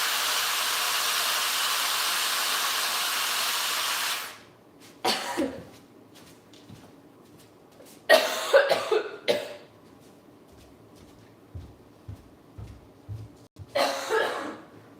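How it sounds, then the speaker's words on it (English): A person coughs in several short bursts, close and fairly loud, following a stretch of steady hiss that abruptly cuts off. "literally when I go that way, it makes me cough"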